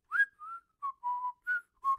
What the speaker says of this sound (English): Back to whistling.